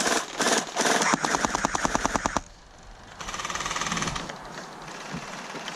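A J11 AK-47 gel blaster firing rapid full-auto bursts, a fast rattling stream of sharp mechanical clacks, then a pause and a second buzzing burst, close and loud outdoors.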